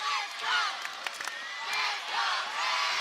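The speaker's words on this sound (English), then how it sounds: "The crowd is on its feet here at the Ashland High School gym" A crowd in the Ashland High School gym cheers and shouts at a basketball game, swelling in loud waves that fill the room, with scattered whoops over a steady roar.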